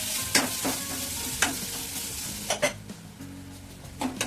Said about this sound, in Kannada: ಸ್ವಲ್ಪ ಧನಿಯಾ ಪೌಡರ್, ಸ್ವಲ್ಪ ಗರಂ ಮಸಾಲ, ಇಷ್ಟು ಹಾಕಿ ಚೆನ್ನಾಗಿ ಫ್ರೈ ಆಗಬೇಕು